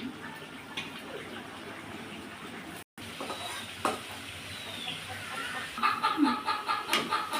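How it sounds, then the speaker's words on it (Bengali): Chickens and a rooster cluck and call intermittently in the background, growing more frequent near the end, alongside soft kitchen clatter and sizzling while a potato and pointed gourd kofta with fish roe cooks. "আমার ভিডিওতে নাকি মুরগির ডাক শোনা যায় মোরগের ডাক শোনা যায়"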